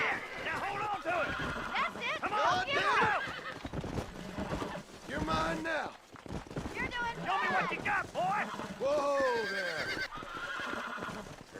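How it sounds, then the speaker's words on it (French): Horse in Red Dead Redemption whinnying and neighing as it is lassoed and mounted, with clip-clop hooves under loud, excited talk throughout. "Monter sur le cheval."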